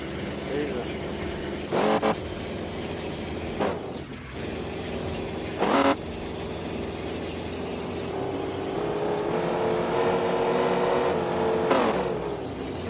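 Simulated engine sound from the DARKNESSBOT app on an InMotion V13 monowheel: a continuous car-like motor drone that rises and swells in pitch as if revving, with someone talking over it.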